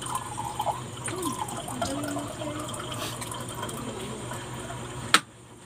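Water trickles and splashes into a drinking glass at an outdoor meal of mangoes in Canton, a steady liquid pour running for about five seconds before stopping abruptly.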